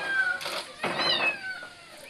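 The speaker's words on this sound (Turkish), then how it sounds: "Burada bulunan 26 yavru kedi ömürlük yuvalarını bekliyor." Kittens at a municipal animal shelter meow in several high, plaintive calls, overlapping and close, one after another over a couple of seconds with no speech.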